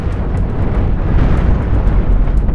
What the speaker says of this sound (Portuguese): Consigo atirar aqui? Talvez. Vai lá, canhão.